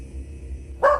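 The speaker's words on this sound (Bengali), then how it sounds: "কুকুরটা ডাকছে" A single dog bark bursts out loud near the end of the clip in an audio drama, after a low steady hum.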